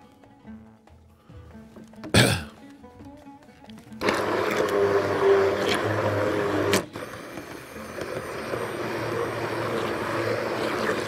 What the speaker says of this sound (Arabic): هاند بلندر عايزها حرشه